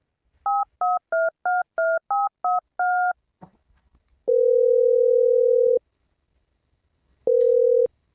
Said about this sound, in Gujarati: ફોન કરી લે ફોન કરું